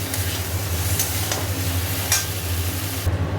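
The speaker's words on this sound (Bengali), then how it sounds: "এবার এটাকে ভালো করে কষাই" Tomato and ginger paste sizzles in a pan as it is sautéed, with a steady frying hiss and low hum. Occasional spoon scrapes stand out, and the sound cuts off near the end.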